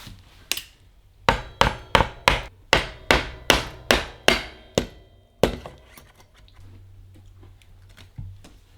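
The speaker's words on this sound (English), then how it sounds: "I'm going to take this hammer and hit right there." Series of sharp hammer blows on a bicycle crank, about ten evenly spaced metallic strikes followed by one more, close and loud, then quieter workshop rustling; the crank is a carbon 155mm Samox M7J kids' crank being fitted.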